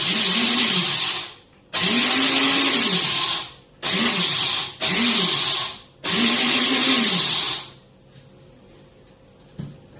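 Rice seeds for homemade rice beer are ground in a blender in five short bursts, each a loud whirring buzz that starts and stops abruptly with brief silent gaps, ending in quiet.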